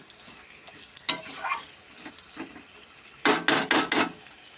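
Chicken curry being stirred in a pan, with irregular scraping strokes and clinks against the metal over a low sizzle, ending in a dense burst of rapid stirring; no talking.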